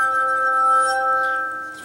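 A glass harmonica sustains a clear, pure chord of steady ringing tones, bright and close, fading slightly toward the end, with no talk.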